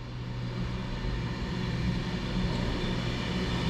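An Avanti West Coast Pendolino electric train, class 390, runs through Lancaster station on the West Coast Main Line as an empty stock move, a steady broad rushing roar with low hum, fairly distant and continuous.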